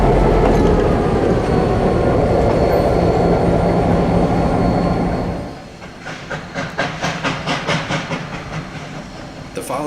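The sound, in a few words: GSMR 1755 locomotive moving onto track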